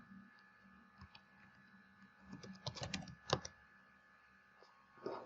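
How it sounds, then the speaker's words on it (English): Quiet computer keyboard typing comes in scattered bursts of clicks, denser in the middle, close but soft, with no talking. "Let's type here"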